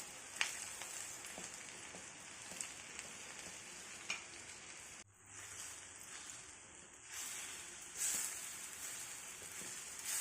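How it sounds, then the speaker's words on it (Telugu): Punarnava leaves frying on medium flame with salt and coriander powder, a soft continuous sizzle with faint stirring scrapes, quiet and close, with no talk. "మీడియం ఫ్లేమ్లో పెట్టుకొని ఇలా బాగా ఫ్రై చేసుకోవాలండి"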